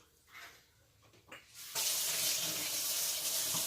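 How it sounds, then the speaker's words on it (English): Cold water gushes from a tap into a drinking glass, starting after a few soft handling clicks and then pouring as a steady, loud, close rushing stream. "I'm going to put cold water in it. So I'm going to put some in my glass."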